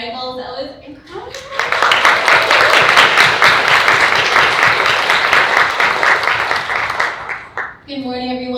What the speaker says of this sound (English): why don't we give a quick applause to Kari Michaels?